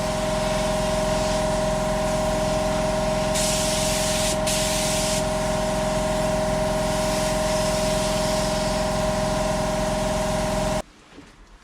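Spray gun laying a heavier second coat of paint onto a car in an open, unsealed workspace, a steady loud continuous hiss with a constant compressor-like hum beneath, running alone for about eleven seconds before cutting off abruptly.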